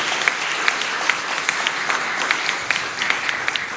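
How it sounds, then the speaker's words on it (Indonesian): Congregation applause during a Buddhist Dharma talk and Ksitigarbha Bodhisattva Ulkamukayoga ceremony at a vihara; dense, even clapping from a crowd with a few sharper claps standing out in a loose rhythm. "Kita tepuk tangan buat mereka juga"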